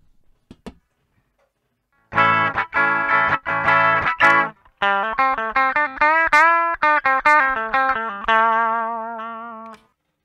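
Epiphone ES-339 electric guitar on the bridge pickup, played alone without distortion with a bright, twangy tone: a burst of rapid strummed chords, then a run of single picked notes ringing out.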